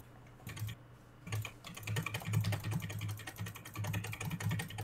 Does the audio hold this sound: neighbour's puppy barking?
no